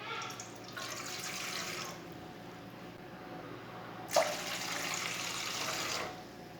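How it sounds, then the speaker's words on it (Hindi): Water pours steadily into a pot in two separate glassfuls, a hiss-like splash lasting a couple of seconds each, with a soft clink between them. "2 गिलास पानी डालेंगे।"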